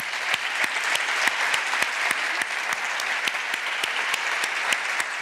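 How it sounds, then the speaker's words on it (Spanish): Sustained applause from a conference audience, steady dense clapping with a few sharper individual claps standing out, filling the clip without talk. "Aplauso para Ceci."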